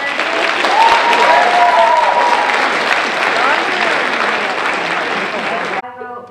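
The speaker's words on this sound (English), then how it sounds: "So let's welcome and give everybody a round of applause." A crowd applauds steadily at a high school sophomore speech showcase, loud sustained clapping with a few whoops that cuts off abruptly near the end.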